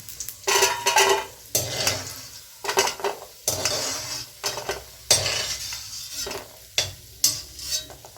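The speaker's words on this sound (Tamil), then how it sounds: "முந்திரி இந்த அளவுக்கு வறுத்தா போதுங்க ரொம்ப கருக விடாதீங்க" Whole cashews fry and are stirred in a pan with fat, giving a steady sizzle broken by repeated scraping stirs of the spoon against the metal, close and fairly loud with no talking.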